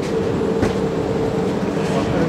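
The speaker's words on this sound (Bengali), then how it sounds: "এই যে বর্ধমান থেকে ট্রেন ছেড়ে দিল" The Kanchankanya Express pulls out of Bardhaman station with a loud, steady rolling rumble and low hum, heard from on board as a continuous drone without distinct clatter.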